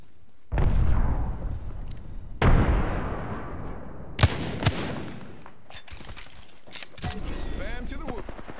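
A frag grenade blast in the battle royale shooter Apex Legends: two heavy booming explosions with long rumbling tails, followed by sharp gunshot cracks and scattered firing, while a voice talks over it.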